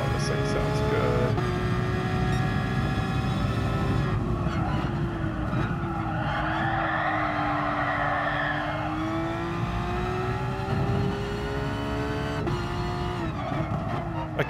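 A high-revving race car engine in the video game GT Sport roars steadily throughout, its pitch climbing and dropping through gear shifts, loud and close.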